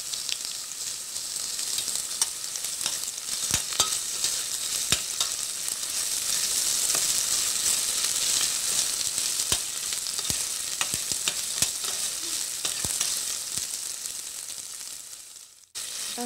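Ginger garlic paste sizzles steadily in a hot pan for rajma curry, a close, continuous hiss with scattered spoon scrapes and taps as it is stirred, ending abruptly.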